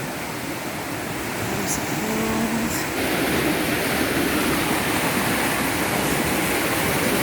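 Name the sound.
small waterfall rushing water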